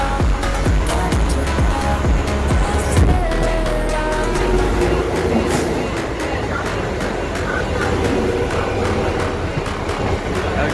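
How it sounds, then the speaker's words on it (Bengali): An EMU local train runs at night near Howrah, giving a loud, continuous rumble with rattling and clattering wheels through the whole stretch and no distinct voices above it. "একটা লোকাল ট্রেন যাচ্ছে"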